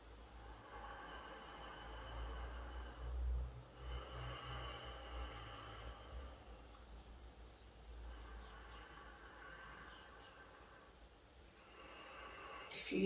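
Slow, deep breaths during a guided breathwork class repeat in long, soft inhale-exhale cycles with a low, breathy rush, quiet and unhurried, with no talking over them.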